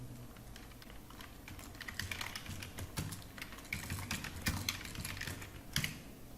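Fingers type on a computer keyboard while a name is entered into an online application form, producing soft, irregular bursts of key clicks at close range with no talking.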